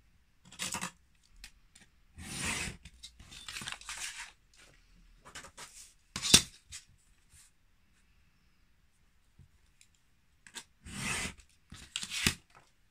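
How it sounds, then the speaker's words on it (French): Scissors trim excess paper from a scrapbook album page in several separate bursts of close, crisp snipping and rustling, with quiet pauses between cuts. "Et là, je vais découper le surplus."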